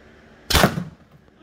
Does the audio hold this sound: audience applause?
no